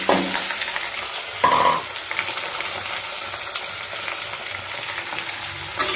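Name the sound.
onions and tomatoes frying in pan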